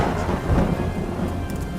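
Heavy rain pours steadily, loud and close, while thunder rumbles low underneath throughout.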